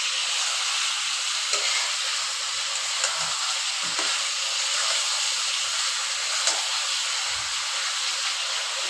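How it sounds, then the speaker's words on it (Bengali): Chicken meat frying with onions in a pan, a constant loud hiss and sizzle with occasional faint stirring knocks, no voices. "মাংসটা আমি আগে পেঁয়াজের সঙ্গে ভালো করে ভেজে নিলাম"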